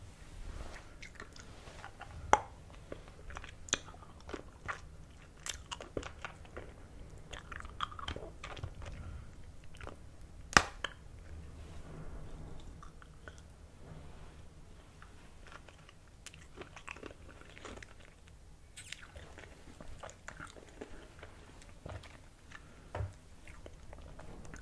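Close, quiet crunching and biting on hard, sour candy with popping bits, irregular crisp cracks and soft chewing sounds continuing throughout with no talking.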